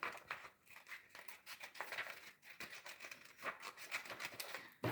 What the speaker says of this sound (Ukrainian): Потім ножицями ви відрізаєте зайве.